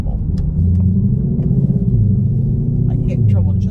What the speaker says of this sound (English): this sounds so freaking good. It sounds like a real car.